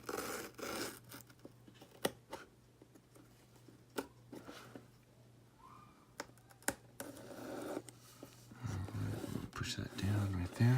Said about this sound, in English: So I'm just gonna really carefully cut this label off.